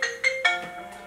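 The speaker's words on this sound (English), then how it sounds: "Sorry about the phone call." An incoming phone call rings with a brief ringtone of bright, repeating melodic tone bursts, close and clear, lasting about a second.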